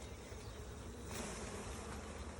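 Honey bees buzzing in a steady, dense drone, close by and continuous throughout with no voices, as a full frame of honey is worked from a hive.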